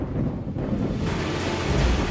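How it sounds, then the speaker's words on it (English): Heavy rain in a thunderstorm, a dense, loud, broadband roar of downpour with a deep rumble of thunder rising midway and no voices. "Then it starts raining."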